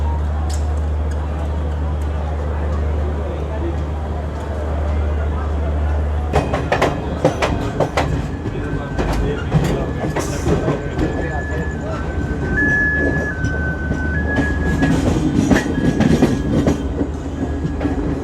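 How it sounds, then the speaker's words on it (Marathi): An express train departing Surat railway station rumbles and starts rolling, its wheels building into a clickety-clack rhythm, with squeals and tonal whines from the carriage as it picks up speed. "सुरत रेल्वे स्टेशनमधून आता आता आपण निघतोय"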